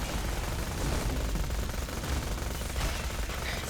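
Dense, continuous gunfire and combat noise from Borderlands: The Pre-Sequel during a boss fight, a steady loud wash of shooting and effects with no clear gaps.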